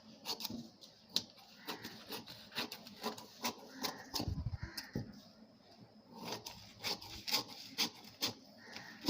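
Scissors snipping through blouse fabric during tailoring, heard as a run of separate crisp, rasping cuts close by in a quiet room, with no talk.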